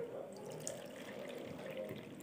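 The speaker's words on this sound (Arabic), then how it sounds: "هحط ميه سخنه على طول" Hot water poured into a pot for syrup in a home kitchen, a continuous splashing, faucet-like stream of moderate loudness that stays steady throughout.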